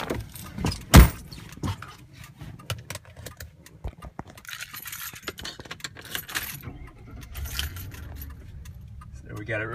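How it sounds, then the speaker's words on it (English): Keys jangle close up in a bright burst while being searched for during a tornado chase near Chickasha, Oklahoma, followed by scattered handling clicks and low car rumble. "Literally, we can never remember where I put my keys."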